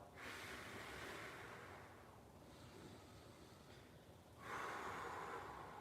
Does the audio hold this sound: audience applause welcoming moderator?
no